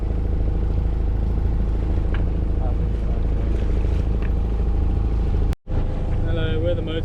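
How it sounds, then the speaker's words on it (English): A motorboat engine runs steadily on open water on a windless sailing voyage, a constant low droning hum under wind buffeting, with a brief dropout near the end and people talking over it. "we're motorboating our motorboat all the way around the world because there's no wind anywhere ever"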